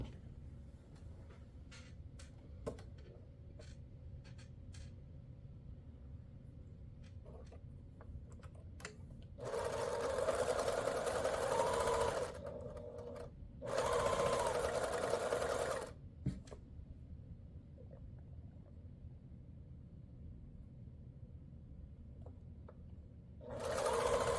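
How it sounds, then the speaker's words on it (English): A sewing machine stitching quilt squares together for a disappearing-blocks quilt from layer cakes and charm packs, with two close bursts of rapid mechanical stitching of a few seconds each and a short start at the end, separated by faint clicks. "we're going to go ahead and sew these together"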